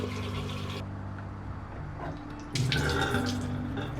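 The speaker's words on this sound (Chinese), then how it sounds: "等一下，水龙头怎么漏水了？" Water runs steadily from a leaking household tap with an aged rubber washer and a discoloured aerator. The flow is close and continuous and grows louder and brighter partway through, as though the tap opened further.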